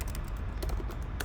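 A computer keyboard is used to type HTML code, with a few quick key taps heard close over a steady low background hum.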